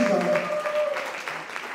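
Audience applause at a lively award ceremony, a dense wash of clapping over a few short seconds with voices mixed in among the crowd.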